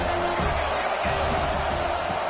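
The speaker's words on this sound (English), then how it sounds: "This crowd bringing the energy and noise early." Stadium crowd noise from the College Football 26 video game, a loud, continuous roar of a packed crowd with a low rumbling wash and no breaks.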